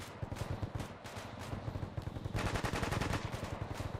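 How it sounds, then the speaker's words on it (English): Rapid machine-gun bursts from a gun team in a military simulation game, rounds fired at buildings in dense, rhythmic strings of loud cracks that swell into a heavier sustained volley midway, with no talk over it. "Therefore, we are shooting the buildings now"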